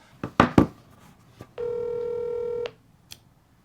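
Telephone dialing: a few sharp handset clicks and key presses, then a sustained electronic tone for about a second, followed by a faint click, all fairly quiet.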